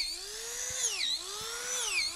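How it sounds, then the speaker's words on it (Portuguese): Power drill boring holes into a log for shiitake mushroom spawn, a whining motor that rises and dips in pitch as the bit loads and frees, heard close and steady with no voices. "Vamos terminar só de fazer a furação."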